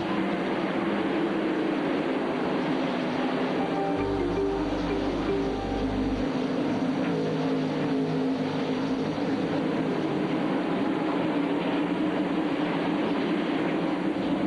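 NASCAR Busch Series stock cars racing at Bristol in 1998, a steady loud engine roar from the pack droning continuously with no voices.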